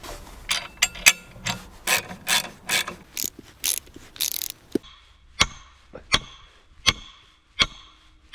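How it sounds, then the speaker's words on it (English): A pole being rammed into the ground while a fish pond is built: a string of sharp, metallic clanking impacts, fast and dense at first, then slowing to separate evenly spaced blows, close and loud. "Now we're gonna ram that pole in the ground."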